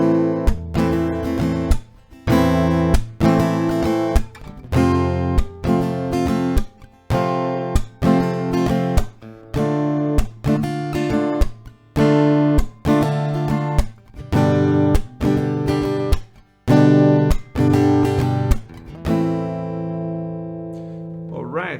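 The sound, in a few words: acoustic guitar strumming chord progression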